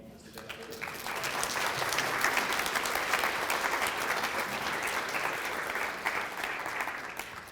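An audience bursts into sustained, dense applause welcoming a speaker, holding strong for several seconds before easing slightly near the end.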